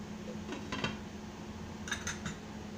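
A lid clinks onto a pan of pav bhaji cooking on a tava, a few light metallic taps and rattles over a steady background hum.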